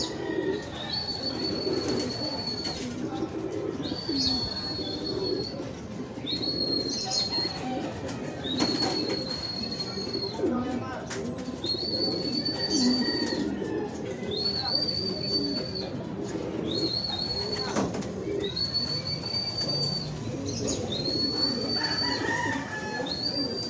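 Racing pigeons circling and coming down to land at a loft during a Philippine pigeon race, with repeated cooing and bird calls over steady outdoor background noise. Wing flaps are not clearly distinct.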